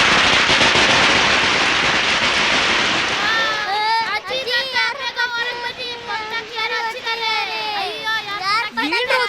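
Firecrackers bursting in a dense crackling barrage that thins out after a few seconds, followed by excited people talking and shouting over the last scattered pops.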